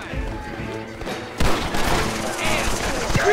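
Gunfight in Red Dead Redemption, with rapid shots from several guns in an open area without cover, growing louder and denser halfway through while voices talk over the firing.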